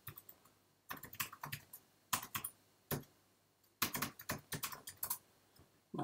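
Keys clatter on a computer keyboard as a password is entered, several quick bursts of close crisp clicks separated by short pauses, quiet and without talk.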